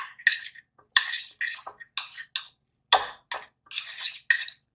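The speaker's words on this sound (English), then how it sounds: "I'm going to come in and get this stirred up nicely." A utensil clinks and scrapes against a bowl while stirring a guacamole mix, making a series of short, close taps and scrapes with silent gaps between them.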